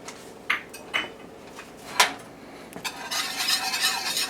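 Flour being stirred into melted butter in a pan, a few sharp utensil clinks against the pan, then a soft continuous scraping and sizzling stir toward the end.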